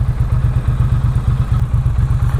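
Triumph Bonneville T120 motorcycle fitted with a British Customs Sleeper Pro exhaust, idling with a loud, steady, deep throbbing pulse close to the microphone, no voices.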